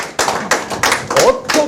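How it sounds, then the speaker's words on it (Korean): An audience in a talk show studio claps in a short burst of uneven hand claps, close and moderately loud, lasting under two seconds. "박수 한번 부탁드립니다"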